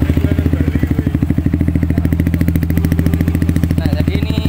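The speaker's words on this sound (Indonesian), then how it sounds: "Ini kita coba knalpotnya." A Yamaha Vixion motorcycle idles loudly and close through an aftermarket exhaust, with a fast, even, throbbing pulse that stays steady throughout.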